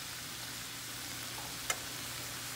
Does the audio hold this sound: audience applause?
no